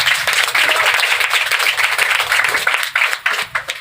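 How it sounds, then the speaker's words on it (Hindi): An audience at a motivational seminar claps for a young girl, a dense, loud burst of hand clapping that thins into scattered claps near the end. "देखिए कितनी प्यारी बहना है, बिटिया है, वो ताली बजा दीजिए।"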